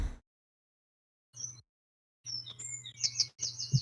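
Birds chirping in short bursts of high, thin tweets separated by silent gaps, fairly quiet and alone with no talk.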